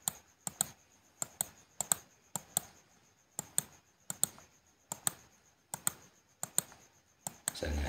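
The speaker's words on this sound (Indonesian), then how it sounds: "kita klik coba misalnya Dedi, klik seperti ini." A computer mouse clicks repeatedly while working in an Excel spreadsheet, sharp close clicks mostly in quick pairs, spaced about every half second across the stretch, crisp and isolated against a quiet background.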